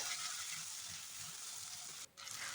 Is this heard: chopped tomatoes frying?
yes